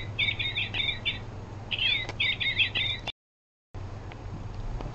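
A toy bird gives off repeated electronic chirping trills in short bursts over a low hum, cutting out briefly near the end before the background hum returns.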